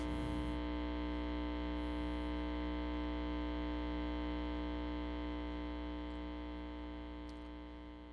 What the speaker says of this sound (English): the alternator's hum is not merely sinusoidal, but contains strong upper harmonics, generating its characteristically unignorable timbre